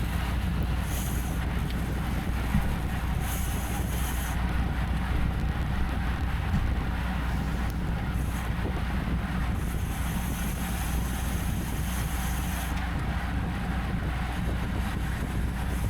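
A headwind roars into a cyclist's microphone during a Cat 4/5 race: a steady, heavy low rumble of wind noise with no pauses for the full length.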